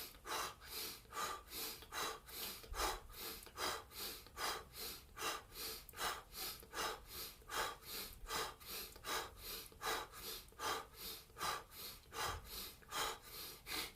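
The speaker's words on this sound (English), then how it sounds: "Inhaling through the nose, exhaling through the mouth." Rhythmic, steady breathing cycles during a guided exercise, each slow inhale through the nose followed by an audible exhale through the mouth, repeating about every half second to second, close and clear with no talking.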